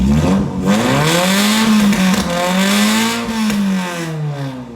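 A car engine running a custom standalone ECU revving at high throttle, loud close engine tone with pitch climbing, dipping and climbing again in repeated pulls, alone without talk.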